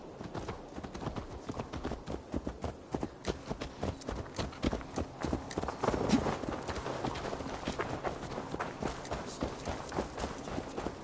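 A horse's hooves clip-clop at a brisk steady trot in Assassin's Creed Valhalla, crisp repeated close thuds over faint ambient game sound, with no talking.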